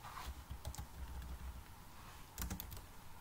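Computer keyboard typing C code for if-else decision statements: quick, close clusters of clicks near the start and again around the middle-late part, with quieter gaps between bursts.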